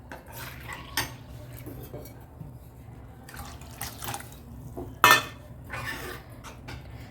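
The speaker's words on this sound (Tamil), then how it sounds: "இன்னும் கொஞ்சம் தண்ணி ஊற்றிக்கிறேன்." Water poured into a pot of gram flour sambar, a light splashing trickle with sharp clinks of a metal pot and utensil, one loud clatter partway through, no voices.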